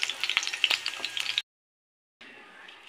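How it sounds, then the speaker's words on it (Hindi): Aloo chicken tikka frying in a pan gives off a bright, crackling sizzle with sharp pops that cuts out abruptly to silence partway through, then returns as a softer, steady hiss. "ऐसे ही मैं बचे हुए टिक्कों को भी फ्राई कर लूँगी।"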